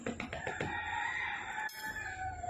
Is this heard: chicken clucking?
yes